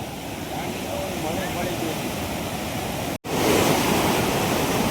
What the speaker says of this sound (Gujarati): પાણીનો શું વેગ થઈ રહ્યો છે.